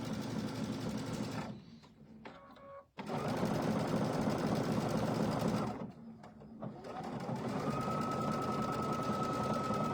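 A sewing machine triple-stitches appliqué around the outside of a fabric banner, its rapid mechanical chatter loud and steady, broken by two brief pauses.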